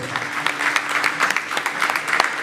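An audience at an orphanage association's anniversary evening applauds children in the Democratic Republic of Congo, with dense, fairly close clapping that continues steadily and carries a faint voice beneath it.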